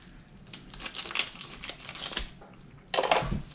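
Plastic packaging around a block of Havarti cheese crinkles and crackles up close as it is cut open, in short scattered bursts with a sharper rustle near the end.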